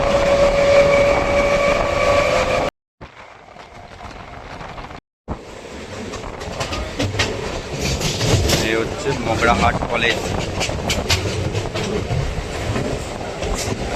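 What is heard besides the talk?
Sealdah–Diamond Harbour local train running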